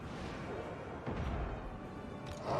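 A defensive tower shot and missile fire in Total War: Warhammer 2 land as dull, distant booming thuds over a faint, busy battle din, with a heavier burst toward the end.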